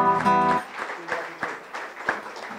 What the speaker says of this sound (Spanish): Un aplauso a México también.